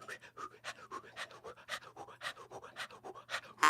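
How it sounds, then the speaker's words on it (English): Rhythmic puffs of breath pushed in and out through a jaw harp, a steady pulsing series of soft breathy twangs, close and moderately quiet, with no talking. "I'm just giving it out and in puff of breath."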